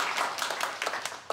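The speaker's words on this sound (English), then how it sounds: "round of applause" Applause from a small audience at an evening art exhibition talk, a short burst of scattered clapping heard alone.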